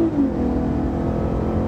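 The 3.5 liter V6 of a 2018 Lexus IS 350 AWD F Sport drones steadily and loudly from inside the cabin after a brief rise at the start.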